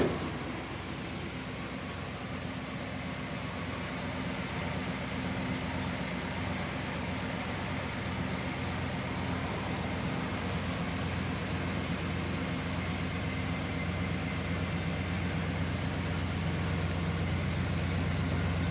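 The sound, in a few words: 1964 Ford Galaxie XL 500 390 V8 engine idling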